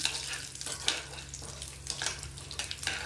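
Chana dal and urad dal fry in hot oil for kuzhi paniyaram, giving a soft crackling sizzle broken by periodic scraping stir strokes of a utensil against the pan, close by and quiet.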